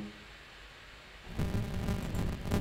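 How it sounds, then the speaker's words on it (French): A thunderstorm comes through as a low, broad roar of rain and rumbling thunder that swells suddenly halfway through and stays heavy, with no voices. "il y a de l'orage, je le comprends bien qu'il y a de l'orage"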